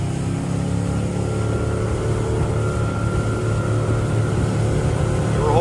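A 2021 Mercury 150 horsepower four-stroke outboard motor held at full throttle on a boat during break-in, a loud steady engine drone with constant hum throughout, close and unbroken.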